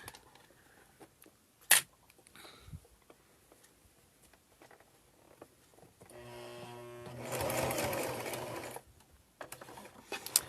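A sewing machine stitches across a fabric seam, a buzzing mechanical run of a few seconds after scattered light handling clicks and a sharp knock, then stopping.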